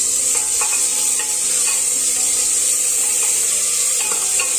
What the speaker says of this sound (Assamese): এতিয়া বিলাহী আৰু আদা নহৰুখিনি সিজি থুপথুপীয়া হোৱালৈ ভাজি থাকিব লাগিব